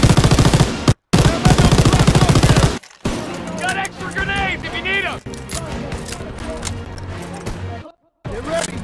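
Rapid machine gun fire in Call of Duty WWII, long loud bursts of close automatic shots with shouted soldier voices, explosions and battlefield noise in between and brief silent gaps.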